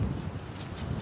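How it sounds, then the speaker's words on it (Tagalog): Strong gusts buffet an outdoor microphone on a windy day in Canada, a steady low rumbling roar that runs through the whole second without easing. "Malakas ang hangin."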